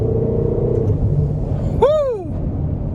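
A 2015 Ferrari California T engine on the move, a steady rumble under a sudden rising-then-falling rev blip midway through, loud and close from inside the car.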